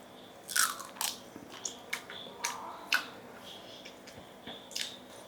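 Someone bites into and chews a Medusa pineapple up close, with sharp wet crunches at irregular intervals and softer squishy chewing between them, no speech.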